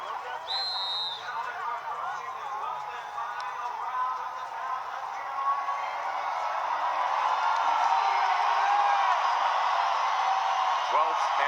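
A boxing arena crowd roars steadily for hometown world champion Jose Ramirez before the 12th and final round, a dense wash of cheering and voices that swells louder toward the end.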